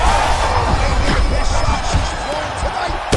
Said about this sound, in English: The crowd goes crazy because they appreciate the high-level grappling that these two women just exhibited for them.